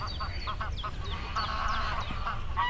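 A duck calling on a lake, a series of close, clear honking quacks in quick bursts over a low rumble of background noise.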